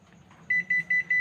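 Four short, high electronic beeps from a Panasonic split-type air conditioner showing error code H19, in an even rhythm, loud and close, preceded by a brief quiet stretch of faint background noise.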